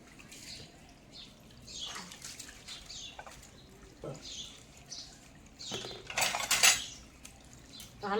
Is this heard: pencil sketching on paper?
no